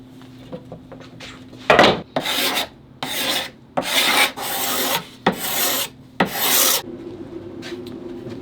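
Repeated rasping strokes of a file or rasp shaving material off a fiberglass-backed bow, close and loud, in about eight bursts of uneven length with short pauses between them.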